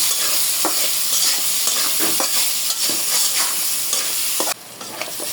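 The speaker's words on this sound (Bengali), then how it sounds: "এক কাপের থেকে বেশি কাঁচা মরিচ মতো লবণ পেঁয়াজ একটু হালকা নরম করে নেবে" Chopped onions, green chillies and salt fry in a pan, loud close sizzling with scattered scraping stirs, cutting off sharply near the end, and no one speaking.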